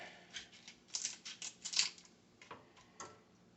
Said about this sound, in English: you can cut the other side, the top of the shell, right in half